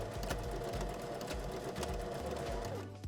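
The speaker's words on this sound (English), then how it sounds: "you're going to sew both of these pieces of elastic together." Sewing machine stitching two pieces of elastic together for a scrunchie, a rapid steady mechanical whirr with rhythmic needle thumps, close and continuous before stopping at the end.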